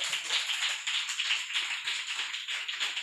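A church congregation claps together in a quick, steady rhythm, many hands striking in unison, close and continuous with no voices over it.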